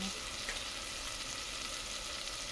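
Tomatoes and onions caramelizing in a pan ahead of flaked grilled fish, a soft continuous sizzle, even and unbroken, with no voices.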